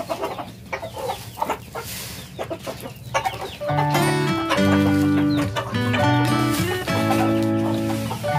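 A brown and white hen clucks in a backyard bird enclosure, nearby and fairly loud, its repeated tonal clucks starting midway through after a stretch of softer scratching and rustling.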